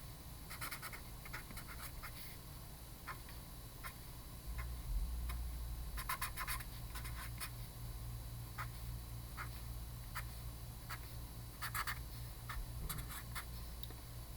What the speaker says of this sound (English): I'm just drawing a coordinate system here.